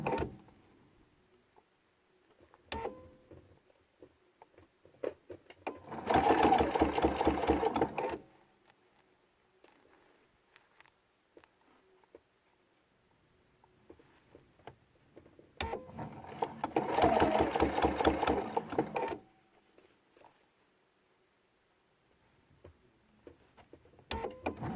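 A sewing machine stitches decorative stitching on quilt binding in two short, slow bursts of rapid needle clatter, separated by quiet stretches with small handling clicks.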